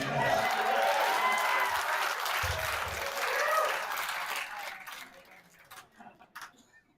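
Audience applause at a live comedy-style stream, a dense, loud burst of many clapping hands that holds for several seconds, then thins out into scattered final claps and fades.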